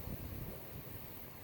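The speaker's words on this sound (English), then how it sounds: "Wait for the gust to go by." A gust of wind blows across the microphone outdoors as a steady broadband rumble of wind noise, fairly quiet and with no talk.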